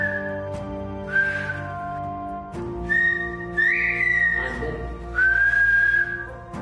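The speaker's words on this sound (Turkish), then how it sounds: "Çocuklar tıpkı yabancı dil eğitimi alır gibi ıslık dilini" Villagers of Kuşköy in the Giresun mountains communicate in whistled Turkish, with long piercing whistled phrases that rise and glide in pitch, loud and close, over a steady tonal hum.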